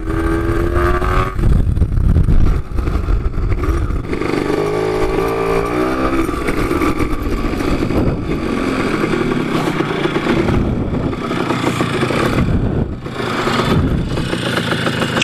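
A poorly tuned Suzuki PV moped engine with its exhaust pipe in two pieces runs steadily and loudly nearby, with uneven revving swells and a rough, buzzy note throughout.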